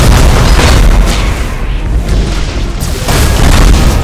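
Heavy Thunderhawk bombardment explosions in the space strategy game Battlefleet Gothic Armada 2, a dense, continuous rumble of deep booms and bursts rolling for several seconds, loud and close with a brief dip midway.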